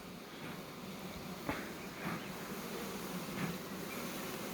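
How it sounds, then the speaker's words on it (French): A honeybee swarm gathered at a hive entrance hums in a dense, steady buzz, with a few faint knocks and rustles rising briefly above it and no talking. "il faut juste dégager un petit peu l'entrée, de telle sorte à ce que les abeilles décident de rentrer par elles-mêmes"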